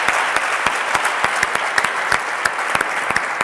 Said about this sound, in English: Big round of applause for Nakan.